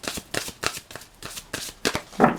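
Playing cards shuffled by hand for a romantic tarot-style reading, a close series of quick riffling bursts in an uneven rhythm, each one sharp and papery, with no talking over them.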